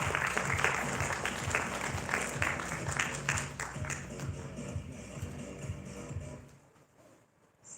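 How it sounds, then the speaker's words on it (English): An audience at a Thai trade event applauds to welcome a robotics sales director. The clapping is loud and dense at first, then thins and fades toward near silence, with a faint voice underneath. "So let's give a big round of applause to welcome our Asia Sales Director"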